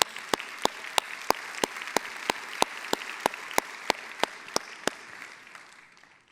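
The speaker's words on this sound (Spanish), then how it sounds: "Dale un fuerte aplauso al Señor." A church congregation gives a burst of applause in a large hall, with loud, steady clapping and sharp regular claps standing out in the foreground. The applause fades out at the end, and nobody speaks.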